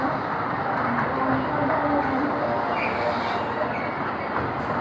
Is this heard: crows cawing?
no